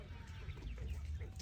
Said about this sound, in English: They're roosters